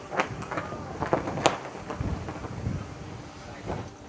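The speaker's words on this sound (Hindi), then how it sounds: "यहाँ बहुत तेज़ आंधी आया है और बारिश की भी बहुत संभावना है" Rumbling thunder with gusty wind and rain noise on the road from Chakrata to Lakhamandal, loud and close, with sharp bursts scattered throughout.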